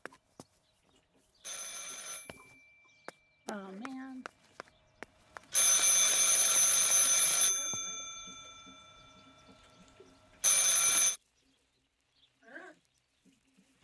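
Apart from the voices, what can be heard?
telephone ringing in the video game Martha is Dead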